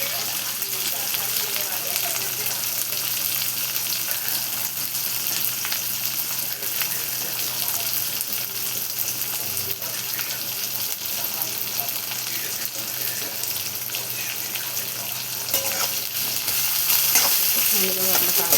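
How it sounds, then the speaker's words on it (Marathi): Onion and tomato fry in a pan while being stirred, a constant close sizzle with occasional scrapes that grows slightly louder near the end. "मस्त मिक्स करून घेऊ आपण कांदा आणि टमाटर."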